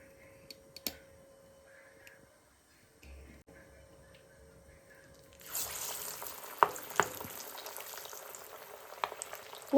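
Paruppu vadai, a lentil fritter, dropping into hot oil and frying, a soft crackling sizzle that swells after a quiet start, with a few sharp clicks and taps near by.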